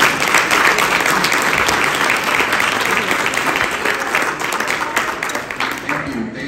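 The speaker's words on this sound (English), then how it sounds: "can we just clap it up for Las Torices for this week?" A gala audience breaks into sustained applause, loud and close, with dense clapping filling the whole span and tapering slightly toward the end.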